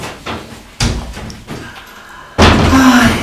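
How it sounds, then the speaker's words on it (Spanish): A door slams shut with a sharp thud, followed moments later by a second, louder bang that rings out, with some background talk in an indoor comedy scene. "Cierra la puerta."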